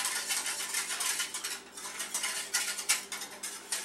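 A spoon scrapes and clinks around a pan as butter, milk and flour are stirred into a sauce over medium heat for cheesy eggs Benedict, with steady close scraping strokes and no talk.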